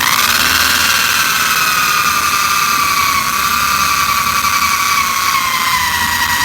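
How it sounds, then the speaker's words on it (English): A loud, continuous high-pitched whine of a drill spinning a wire wheel on a 1967 Dodge Coronet's paint, close and steady with a gritty abrasive edge throughout. "Drill with a wire, you know, wheel on it"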